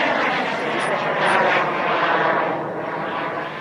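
A Ripmax Xcaliber model airplane flies at full throttle, its engine a loud, steady buzzing drone that holds close and continuous with slight swells in volume throughout.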